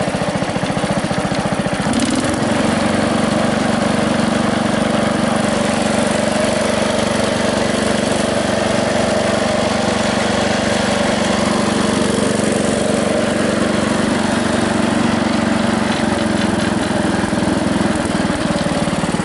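A Bolens Husky Gold 600 lawn tractor engine, its throttle stuck partway, runs steadily and loudly at close range for the whole stretch, holding a constant droning idle with no talk.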